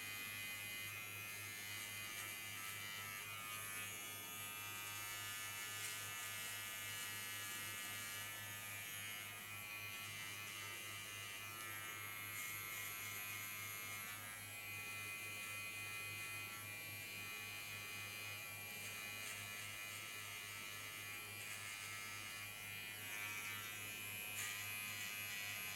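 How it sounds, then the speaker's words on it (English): An electric hair clipper cutting someone's own hair at home runs as a steady, unbroken buzzing hum for the whole stretch, close and even in level, with no talking. "Then I go to my clipper."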